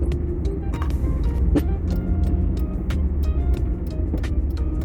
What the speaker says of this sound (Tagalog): Traffic na.